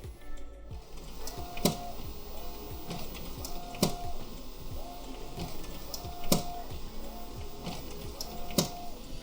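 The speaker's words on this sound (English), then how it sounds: "while that's printing" Sublimation printer running a print job, its print head sweeping back and forth in a steady repeating rhythm of whirring passes with sharp clicks between them, close and moderately loud over a constant mechanical hum.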